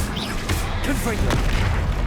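A Confringo fire-spell blast from the video game Hogwarts Legacy lands as a short booming burst within dense, noisy combat, with a voice speaking over it.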